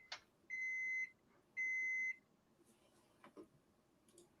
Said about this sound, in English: Who's beeping? That's my microwave.